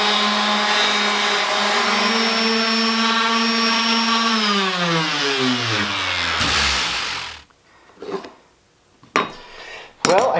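A power sander works a board patched with glue and sawdust, sanded through 220 grit. A loud, steady high-pitched motor whine winds down and stops, followed by a few close knocks and clunks.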